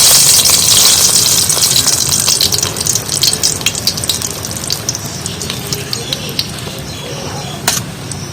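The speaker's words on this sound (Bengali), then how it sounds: "শুকনো লঙ্কা তেলের মধ্যে ফোড়ন দিয়ে দিচ্ছি" Dried red chillies tempering in hot oil sizzle loudly and continuously, with scattered crackles and spatters as the hiss gradually eases.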